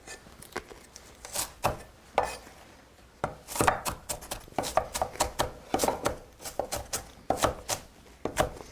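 A knife chops red onion on a cutting board, making crisp, close, irregular taps in quick clusters with brief pauses between, the blade needing sharpening; no one talks during the chopping.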